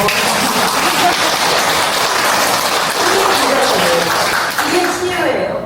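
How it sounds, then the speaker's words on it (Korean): Steady audience applause during a Christian mission Bible-therapy talk program, dense and continuous for nearly six seconds with no real break, loud and close. "박수 좀 치세요"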